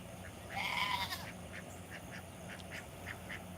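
A duck gives a short burst of faint nasal quacks outdoors beside a small pile, followed by softer scattered calls against a low ambient hiss.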